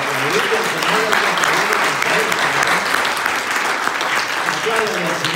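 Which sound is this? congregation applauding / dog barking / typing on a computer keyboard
congregation applauding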